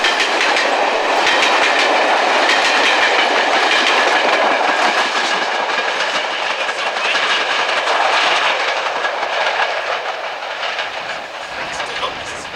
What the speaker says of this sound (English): Rushing through Cornham Woodhouse with the 1:25 p.m. mail train from Loughborough, 92214 picks up and drops off mail bags at the lineside apparatus